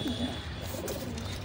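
A pigeon coos softly in low, rolling murmurs over a steady background hum, close but faint, with no voices.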